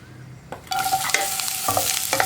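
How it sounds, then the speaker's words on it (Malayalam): Chopped onion dropped into a little hot coconut oil for a masala, a soft start then a sudden loud sizzle with stirring scrapes and clinks, close by and alone. "ഇതിലേക്ക് നമ്മൾ കട്ട് ചെയ്ത് വെച്ചിരിക്കുന്ന സവോള ചേർത്ത് കൊടുക്കാം."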